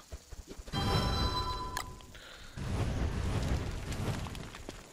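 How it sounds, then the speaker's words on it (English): A campfire being lit in the video game Don't Starve: a few soft ticks, then a sudden whooshing flare of fire that crackles and roars steadily, dips briefly, then swells again, with no talking. "And make a fire right here"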